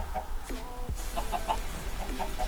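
Chickens in the video game Minecraft cluck in a run of short, repeated clucks at moderate volume, with other game sounds in the background.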